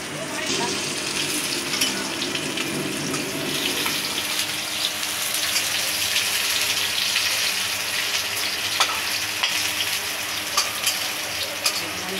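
Potato pieces fry in hot oil for a Bengali fish curry, a steady close crackling sizzle that runs throughout, with occasional sharper pops and a light stirring scrape.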